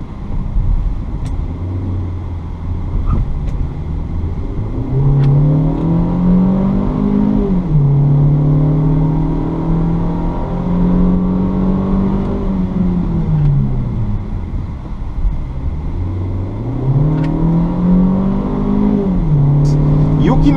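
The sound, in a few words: Hyundai Creta 2.0 automatic engine accelerating uphill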